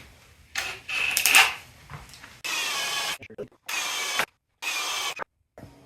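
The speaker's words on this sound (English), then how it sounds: "Got my plug cutter." A plug cutter bores wooden plugs from pine board stock for covering screw holes in a simple pine casket, several bursts of whining drill-driven cutting separated by short pauses, close and loud.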